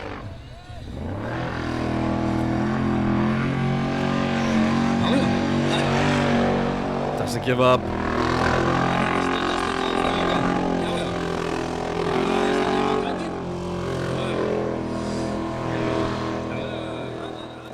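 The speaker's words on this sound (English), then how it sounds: "It's amazing how these engines just stay running in the water." A formula offroad car at the 2023 Icelandic Formula Offroad round at Hella revs hard while driving through water, its loud engine roaring continuously and surging, with a commentator talking over it.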